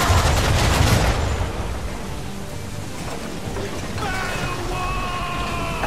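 Ship cannons fire in Assassin's Creed 3 in a loud opening barrage of booming blasts, which fades into a rumbling, crackling wash of debris and splashes.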